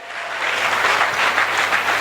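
An audience at a business and sales seminar claps for about two seconds, a dense, even wash of applause that swells slightly and holds, with no talking over it.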